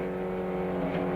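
A Viper GT race car at full throttle on the Mosport circuit, a loud, steady engine roar heard close and continuous for a brief moment.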